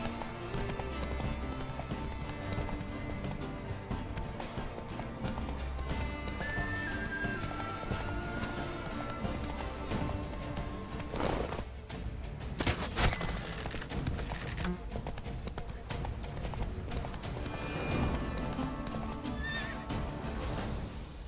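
In The Witcher 3: Blood and Wine, hooves clop in a fast, continuous gallop during a horse race while a horse whinnies several times, with occasional sharp bangs over a busy backdrop.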